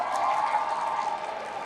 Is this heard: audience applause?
yes